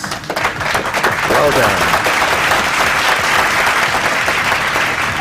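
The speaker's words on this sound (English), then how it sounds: "A round of Yes. applause, please" A crowd of students and guests at a secondary school debate competition bursts into sustained applause, loud and steady throughout, with a voice offering brief praise over the clapping.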